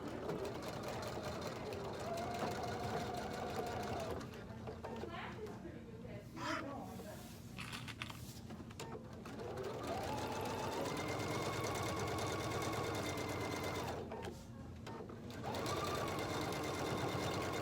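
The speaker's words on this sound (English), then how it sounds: "And I'm going to stitch." A sewing machine stitches a color-blocked cork handbag in long steady runs, pausing briefly between bursts, with faint speech in the background.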